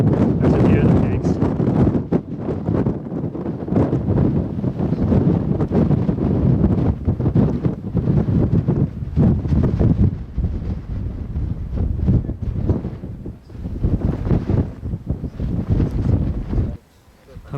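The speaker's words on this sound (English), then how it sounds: "Pretty windy up here now" Strong, continuous wind buffets the microphone on a mountain peak in the Four Peaks area of Tonto National Forest, Arizona, with a roaring, gusty rumble that barely lets up, loud and close throughout.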